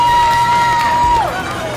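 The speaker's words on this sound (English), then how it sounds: "And the crowd going wild" A fight night crowd roars loudly and continuously, with a sustained whistle-like tone sliding downward, heard close and dense throughout the short burst.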